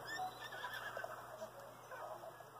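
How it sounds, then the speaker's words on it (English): A horse whinnies in the video game The Legend of Zelda: Breath of the Wild, a faint, drawn-out neigh set against a quiet, steady game background with no talking. "Freaking horse."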